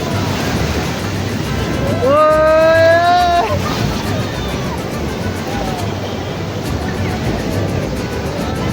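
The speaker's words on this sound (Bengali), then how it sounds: "সমুদ্র প্রচুর উত্তাল" Rough sea surf pounds the shore at Puri as a steady, loud broadband roar close by. A short whistling or horn-like tone rises midway, and faint voices are mixed into the noise.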